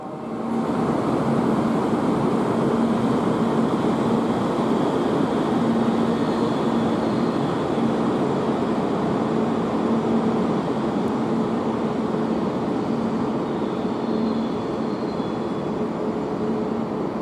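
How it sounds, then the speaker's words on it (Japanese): The Tsubame 316 express bound for Hakata departs from the platform with a steady, loud rumble and a sustained motor hum that lasts throughout and eases slightly near the end, with no voices heard. "11番乗り場から博多行きが発車いたします。"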